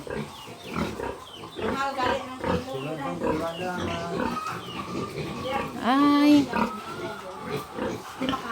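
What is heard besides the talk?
pigs oinking on a small farm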